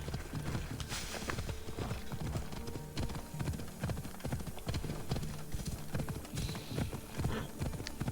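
Rapid rhythmic hoofbeats of a galloping horse in a video game clatter steadily, close and continuous, with a brief whinny amid the pounding.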